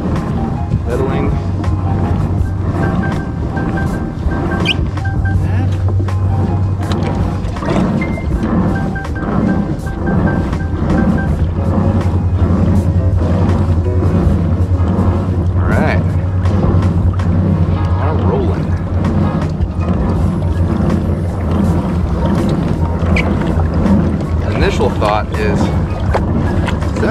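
A Riot Mako 14 pedal kayak moving through water, with a constant loud rush of wind and water close to the microphone, low mechanical hum underneath and a voice talking intermittently.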